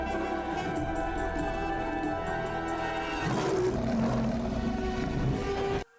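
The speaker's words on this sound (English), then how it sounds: "You woke the angry lion." A roaring lion from a film scene, a loud, sustained growl rising over a dense orchestral score and cutting off abruptly near the end.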